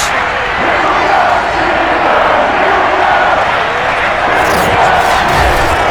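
Sold-out Heinz Field stadium crowd in the football video game Madden 22, a loud, continuous roar of many voices filling the space, swelling slightly toward the end.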